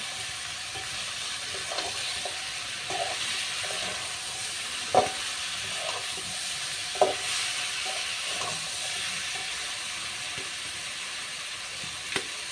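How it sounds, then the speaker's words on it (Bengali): Fried fish and potatoes are sautéed with spices in a pan, a long, even sizzle with occasional spatula knocks and scrapes, close and moderately loud throughout. "মাছ আর আলুর সাথে ভালো করে মশলাগুলো কষিয়ে নেব"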